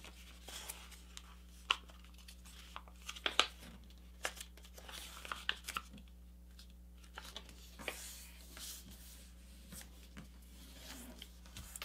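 Paper is folded and creased by hand while making a paper airplane, giving soft, close crinkles and sharp little crease snaps at irregular intervals over a steady low background hum.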